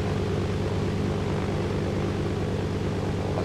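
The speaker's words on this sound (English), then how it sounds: "I can hear a chopper." Steady, loud rotor and engine drone of a helicopter in the video game DayZ, a continuous broadband roar with no breaks and no talking.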